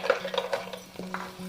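Cleaned crab cut into small pieces being dropped into a pan for Kerala-style crab roast, giving a few close clinks and knocks of pieces and utensil against the metal over a low steady hum, with no talk.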